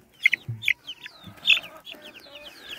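A flock of chickens, young birds mixed in with bigger hens, clucking and giving short sharp calls in close, irregular bursts.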